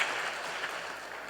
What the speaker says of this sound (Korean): 자리에서 한번 일어나실 때 우리 따뜻한 환영의 박수 한번 보내주시면 합니다